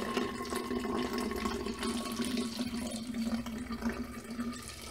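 Water pouring steadily into a kids' Toy Story 4 inspired craft mixture, a continuous close splashing rush at even loudness for the whole stretch, with no voices over it.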